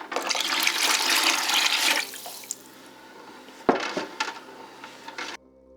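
Water is poured into a mixing bowl while making cinnamon roll dough, a loud gushing splash for about two seconds that fades to trickles, a clunk and a few drips.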